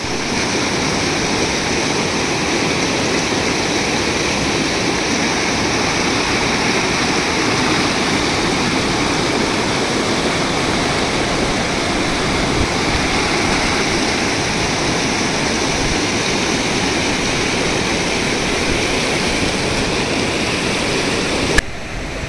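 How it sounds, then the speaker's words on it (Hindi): A glacier-fed meltwater river in Sonamarg, Kashmir rushes past in a loud, steady roar of churning water, close by and unbroken throughout, with no voices. "ये सामने ग्लेशियर है पूरा, उसके नीचे से पानी आ रहा है"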